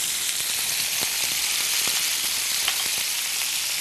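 Chopped shallots frying in a hot pan, giving a dense, even hiss with occasional sharp pops and crackles scattered through it.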